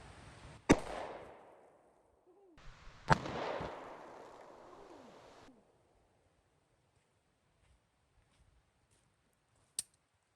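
A Smith and Wesson pistol fires in a few sharp, fairly quiet cracks spread several seconds apart, the first two followed by a brief rumbling echo.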